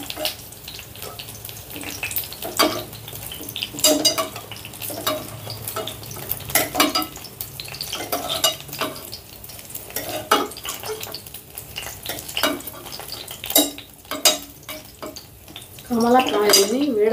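Whole brinjals frying in oil in a pan, turned over repeatedly with a spatula: a continuous sizzle broken by frequent scraping and clattering strokes against the pan, with a brief burst of a voice near the end.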